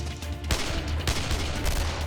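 Submachine gun fire, two or three loud sharp bursts standing out against a dense, steady background of gunfire, with no talking.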